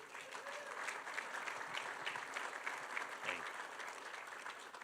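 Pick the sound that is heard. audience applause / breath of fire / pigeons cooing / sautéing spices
audience applause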